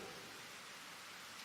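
Heavy rain falls in a steady, even hiss that stays faint and unbroken throughout, with no voices or other sounds.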